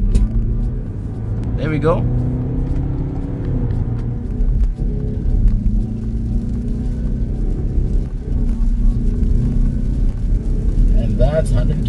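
BMW X3 xDrive 20d with M Sport package launching hard from a standstill at a traffic light, engine note climbing steadily and loud throughout, with people talking over it.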